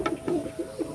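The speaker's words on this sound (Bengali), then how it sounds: "এটা একটা বাচ্চা আছে, চোখের লাইনের পায়রা" A young eye-line pigeon gives a few soft, quick coos close by, short rounded calls in a brief burst.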